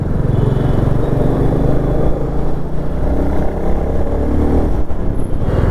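A Royal Enfield Classic 350 motorcycle on a road test ride, its engine a loud, steady low rumble with slight shifts in pitch as it holds speed, close and continuous.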